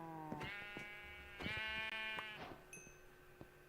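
Sheep in Minecraft bleating several times in close succession, clear, nearby and fairly soft, with short gaps and a few small clicks and taps between the calls.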